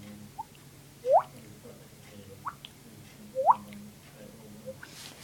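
Mouth-made imitation of water drops: two distinct rising 'bloop' plinks a couple of seconds apart, each with small clicks and taps around it, fairly quiet and close with no talking.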